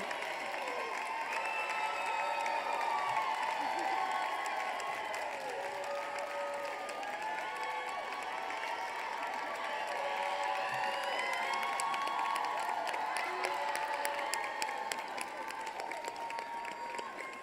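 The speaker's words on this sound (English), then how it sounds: "I was just going to ask you to clap for them. You did it." A seated crowd of college audience members claps and cheers for standing faculty, steady applause with scattered whoops and shouts running throughout, moderately loud and continuous.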